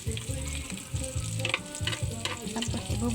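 Onions sautéing in a pan sizzle steadily at close range, with repeated rhythmic scraping and stirring knocks from a utensil punctuating the frying hiss.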